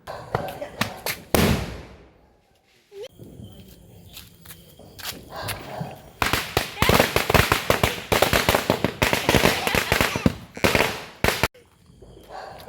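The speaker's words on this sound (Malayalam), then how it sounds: "ശേഷം നമ്മൾ പടക്കം പൊട്ടിക്കൽ തുടങ്ങിയിട്ടാ." Firecrackers go off during a celebration in Kerala, sharp loud bangs and rapid crackling bursts in irregular clusters, with pauses of quieter background between volleys.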